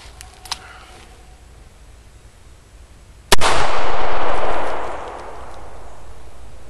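A .38 revolver fired at a Kevlar helmet at an outdoor range: one loud, abrupt gunshot crack followed by a long rolling echo that tapers off over a couple of seconds, with faint ambient noise before it.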